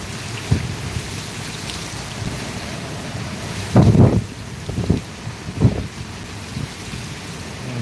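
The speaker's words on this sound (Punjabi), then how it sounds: "ਪੂਰੀ ਤਰ੍ਹਾਂ ਜਿਹੜੀ ਉਹ ਬਾਰਿਸ਼ ਤੁਸੀਂ ਦੇਖ ਸਕਦੇ ਹੋ" Heavy rain pours steadily with wind in Tarn Taran, a constant broadband roar buffeting the microphone, broken by several deeper rumbling gusts around the middle; no one speaks.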